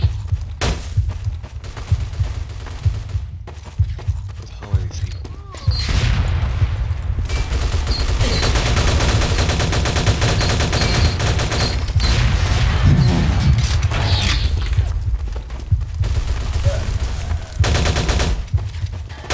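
Rapid bursts of shotgun blasts and automatic gunfire in the video game Team Rush, dense and continuous through most of the stretch, loud and close with sparse quiet gaps between volleys.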